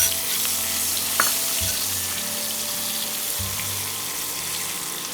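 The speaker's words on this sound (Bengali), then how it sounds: "পেঁয়াজটা একটু ভেজে নেবো।" Chopped onion for bhindi do pyaza sizzles in hot oil in a pan, a steady close hiss with faint low hum and a small clink early on; no talking.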